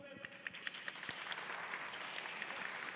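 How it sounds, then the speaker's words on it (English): An audience applauds at a live drawing event. The clapping is dense and scattered, continues steadily for a few seconds, then stops abruptly. It sounds moderately distant and faint, with a voice audible underneath. "I like the applause timing with that,"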